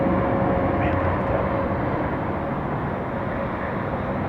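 An airliner landing at Atlanta Hartsfield airport with thrust reversers engaged, a steady loud broadband jet roar that holds constant throughout, heard from outdoors at a distance.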